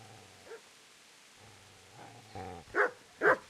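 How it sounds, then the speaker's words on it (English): In the medieval video game Kingdom Come: Deliverance, a dog growls low and then lets out two sharp, louder barks close by after a quiet stretch. "So I didn't hear a dog before."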